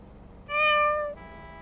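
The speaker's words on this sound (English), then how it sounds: "that was a weird meow" A single clear meow rises out of quiet in a video game roleplay, a close, tonal cry lasting under a second that tails off into a softer fading note.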